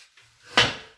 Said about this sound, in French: À défaut du fauteuil qui grince, c'est ma chaise qui claque